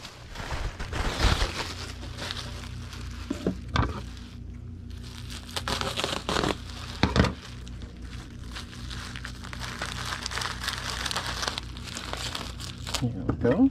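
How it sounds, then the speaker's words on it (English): Bubble wrap sheet crinkling and rustling as it is wrapped around an item being packed for shipping, close-up handling noises with occasional louder crackles and a few soft thumps, no talk. "Wrap each one up in half a sheet of bubble wrap."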